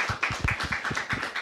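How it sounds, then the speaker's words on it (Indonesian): A studio audience on an Indonesian television talk show clapping for a guest professor: quick, fairly regular claps, close and moderately loud, with no speech over them. "Kita berikan tepuk tangan untuk Prof Alex"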